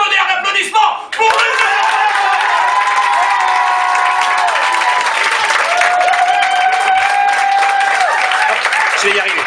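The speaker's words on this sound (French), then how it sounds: "j'aimerais un tonnerre d'applaudissements" An audience bursts into loud applause with cheering and whoops, sustained rhythmic clapping close by, after a brief spoken introduction at the start.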